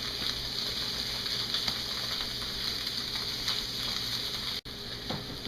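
A steak sizzles steadily in a hot pan, a constant loud hiss with small crackles and pops that briefly cuts out near the end and then resumes.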